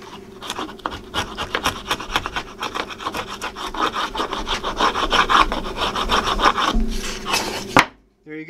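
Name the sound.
cutting a 5/8 inch dado groove in wood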